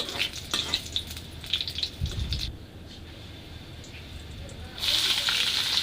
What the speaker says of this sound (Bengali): কড়াইতে তেল দিয়ে দিলাম পরিমাণ মতো তারপর শুকনো মরিচগুলো দিয়ে দিলাম এবার ভেজে নেব মরিচগুলো